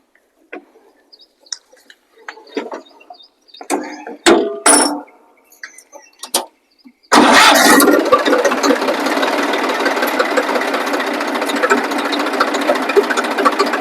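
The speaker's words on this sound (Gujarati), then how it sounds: "કેટલા ટકા એન્જિન છે એ તો આપણે જોઈએ ચાલુ કરીને" An old tractor engine turns over and catches partway through, then runs in a steady loud diesel clatter, after a few scattered clinks and knocks in near silence.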